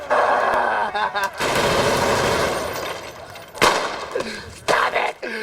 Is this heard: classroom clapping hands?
no